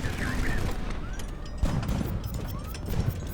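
Big naval-style guns firing during a battle in the airship combat game Highfleet, loud booms and mechanical clanks repeating over a few seconds, with a sharp blast near the middle and another toward the end.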